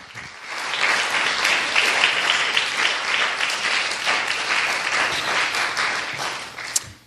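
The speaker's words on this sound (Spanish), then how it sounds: "Dele un aplauso al Señor." A church congregation at Ministerios Ebenezer in Boston breaks into sustained, dense applause that swells quickly and stays even, with a sharp clap or knock near the end.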